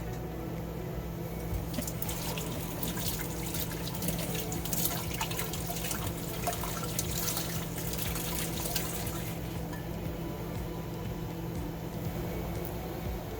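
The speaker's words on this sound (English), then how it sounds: "I'm going to rinse these and slice them and get them in the jars." Tap water runs steadily into a kitchen sink while peppers are rinsed for canning, a continuous close splashing hiss with faint clatter, no voices over it.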